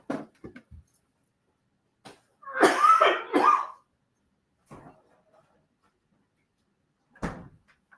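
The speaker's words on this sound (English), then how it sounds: "I have a cough still." A burst of harsh coughing, two or three quick coughs close to the mic, amid otherwise quiet room sounds with a few small clicks.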